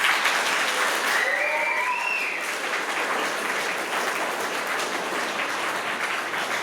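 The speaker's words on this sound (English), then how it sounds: "I think we can give an applause to Mr." An awards-night audience claps steadily for honourees, a dense, even wash of applause with a brief whistle-like tone early on.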